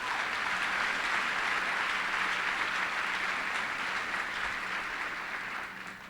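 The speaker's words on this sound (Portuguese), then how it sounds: "por favor, aplauda o Senhor nesta noite" Church congregation gives a sustained round of applause at an evening service, dense even clapping filling the room and fading slightly at the end.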